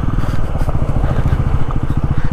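A Bajaj Pulsar NS400Z motorcycle rolls downhill onto loose gravel. Its engine sends out a steady, close, low rhythmic thrum that holds for the whole stretch, with faint rough clatter beneath it and no voices.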